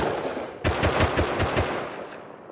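Automatic gunfire rings out in the video game Rust, a rapid burst of about ten shots that starts abruptly and trails off into echoing decay, with no talking over it.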